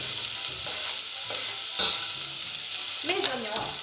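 Onions sizzle in about two tablespoons of rapeseed oil in a saucepan as a risotto is started, a loud continuous hiss with occasional stirring clatter and no talking.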